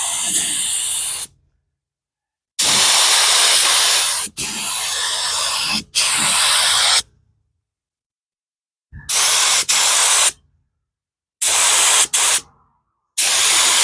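A spray gun hisses out epoxy onto a one-ton truck bed in long loud bursts separated by silent gaps, close and harsh, with no talking.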